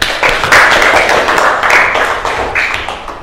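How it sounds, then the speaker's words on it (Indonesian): Students clap their hands together in a classroom, loud and close, with rhythmic bursts of fairly synchronized claps that swell and ease over a few seconds. "Tepuk tangan dulu buat kita semuanya."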